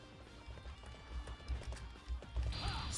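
A horse galloping in the video game Dynasty Warriors 8, its quick hoof beats thudding in a rapid, uneven rhythm over game noise, with a brief burst of sound near the end.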